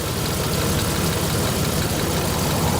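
A 1987 Buick Grand National engine idles with its mass airflow sensor disconnected, giving a steady, loud, close rumble with a faint uneven pulse and no speech.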